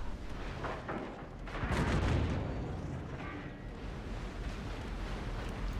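Naval guns booming in a World of Warships battle aboard the Italian ship Giuseppe Verdi, a heavy rumbling blast swelling near the middle over a steady churning wash of sea and wind.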